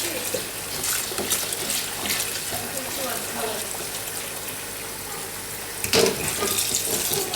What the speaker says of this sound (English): Straight into cold water.